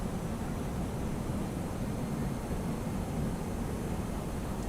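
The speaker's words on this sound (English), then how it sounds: "And the throttles will go idle, and you can hear it." Airbus A319 engines spooling down to idle in the X-Plane 11 flight simulator, a steady broad whooshing engine roar that holds constant and fills the whole stretch with no talk over it.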